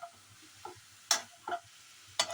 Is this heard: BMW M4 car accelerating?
no